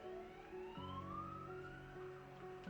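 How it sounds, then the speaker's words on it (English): Sirens in the Minecraft video game, a faint wailing tone sweeping slowly upward over a low steady hum, heard alone without talk. "Apparently the sirens are here again."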